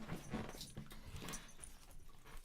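A dog whimpers softly in a room near a doggy bed, with short whiny cries amid faint rustling and jangling.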